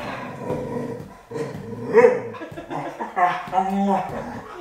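A dog howls and whines in a home setting during a donut tasting, its drawn-out wavering cries close and fairly loud, mixed with people talking and laughing nearby.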